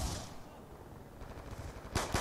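Gunfire in Black Ops 2 multiplayer crackles under a dense rushing din, ending in two quick, sharp nearby shots.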